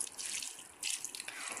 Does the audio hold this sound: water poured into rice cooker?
yes